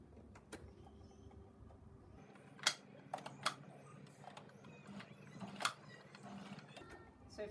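A domestic sewing machine stitches forwards and backwards through a fabric scrunchie and its elastic, giving quiet mechanical whirring bursts with small clicks and ratcheting taps, fairly close.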